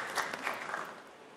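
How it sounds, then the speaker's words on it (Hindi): An audience at the launch event for a comedy show bursts into applause. The clapping is loudest at the start and then thins and fades within a second or so. "जोर से ताली हो जाए"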